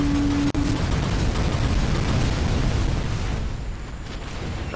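Bombs dropped from the Falcon aircraft in the Toy Soldiers War Chest video game, exploding as a loud, sustained, dense roar of blasts that stays heavy throughout and eases off slightly near the end.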